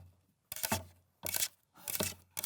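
Paper clips tap on a cutting board in three short bursts of quick, light clicking, each separated by a pause. The effect mimics a dog's claws pattering across a floor.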